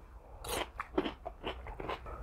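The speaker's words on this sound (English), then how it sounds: "Plus the celery is cold and crunchy." Cold, crunchy celery is bitten and chewed at a Buffalo Wild Wings table, giving several loud, close, wet crunches in quick succession with no talking.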